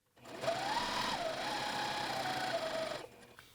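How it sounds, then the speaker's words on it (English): A sewing machine stitches a muslin bodice seam in one steady, close whirring run of about three seconds, with a faint rising and falling pitch and no voices. "let the machine pull the fabric through"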